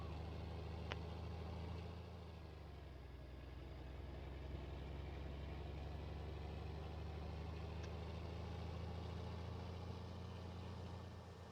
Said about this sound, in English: I love the sound of this tractor.